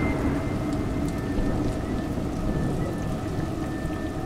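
Steady rain pours down in a dense, even hiss from the video game A Juggler's Tale, with a low rumble underneath and no voices.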